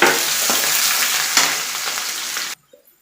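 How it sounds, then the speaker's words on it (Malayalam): Sliced onion and five green chillies frying with popped mustard seeds in a pan for masala dosa give a loud, steady sizzle with occasional stirring scrapes, cutting off abruptly near the end and followed by a couple of faint knocks. "ഒരു വലിയ സവാള നീളത്തിലരിഞ്ഞത്, ഒരു 5 പച്ചമുളക്, ഇതും കൂടെ ഇട്ട് കൊടുക്കാം."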